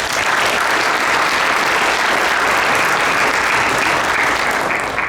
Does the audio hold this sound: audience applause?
yes